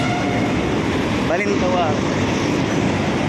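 A Manila MRT train runs along the elevated line near Oliveros and Balintawak, a steady rumbling roll mixed with street traffic, while someone speaks briefly over it.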